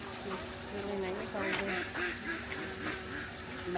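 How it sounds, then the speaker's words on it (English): Several ducks quack repeatedly in short, nasal bursts at moderate distance at Willowbank Wildlife Reserve, near a small waterfall, with a steady outdoor background and faint voices. "Might be able to hear the ducks."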